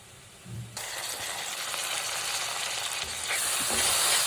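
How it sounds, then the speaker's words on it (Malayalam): Tomato goes into a pan of golden-brown frying onions for a Kerala kadachakka (breadfruit) curry; a sudden loud sizzle erupts and hisses steadily, with a brief stir clatter and a rise in intensity near the end. "സവോള ഏകദേശം ഇതുപോലൊന്ന് ഗോൾഡൻ ബ്രൗൺ ആയി തുടങ്ങുമ്പോൾ നമുക്ക് തക്കാളി കൂടെ ചേർക്കാം"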